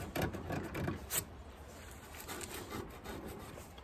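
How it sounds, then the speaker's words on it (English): Old dirt is scraped from inside a 1930s Singer treadle sewing machine, giving a few short, close rasping scrapes followed by quieter rubbing. "So I'm just gonna keep scraping all this until it's fairly clean in here"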